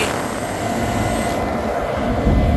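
Steady, loud wind buffeting a microphone, a broad rumbling roar with no voices.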